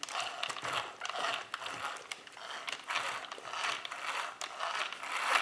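A Traxxas Stampede 4x4 XL5 spur gear is rocked back and forth against its pinion, giving a close run of faint, dry mechanical clicks and ratcheting ticks that repeat irregularly with no voices.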